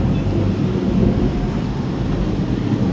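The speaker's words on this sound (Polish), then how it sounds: "co tu się dzieje, jakie oberwanie chmury idzie" Loud, constant low rumble of wind buffeting outdoors ahead of a cloudburst, a heavy roaring wash with no distinct breaks, like a storm rolling in.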